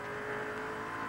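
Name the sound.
V8 engine roar of the 17 Falcon race car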